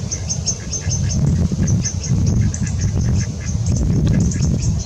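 A duck quacks again and again in a steady run of short, nasal calls, moderately close, with a constant murmur of background noise beneath it.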